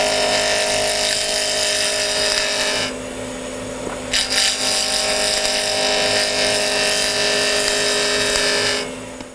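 A flat-edge carbide tool cuts a spinning wood blank on a lathe, shaping it into a cylinder for a honeycomb Christmas ornament; a steady, loud, continuous rasping whir with a brief shift in the middle, running without speech.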